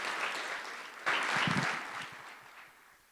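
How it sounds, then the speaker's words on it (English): An audience claps, swelling into fuller applause after a moment before gradually thinning out and fading. "please give all of our original sharks a round of applause."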